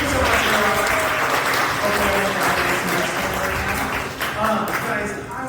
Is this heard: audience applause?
yes